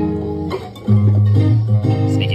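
Acoustic guitar digitally pitched up an octave, a short bright phrase of a few plucked notes and a strummed chord, with a slightly thin, processed tone, loud and close.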